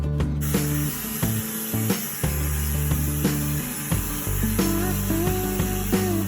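Sanding scrapes old paint off a metal ATV dump cart in close, repeated gritty strokes, with an electronic hum running underneath.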